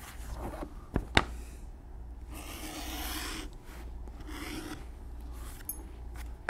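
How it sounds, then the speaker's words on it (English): A hand edge beveler scrapes along the top edge of a leather saddle bag front, producing short rasping strokes with pauses between, fairly close and quiet, with a couple of sharp clicks near the start. "For the fronts, we will edge bevel the top"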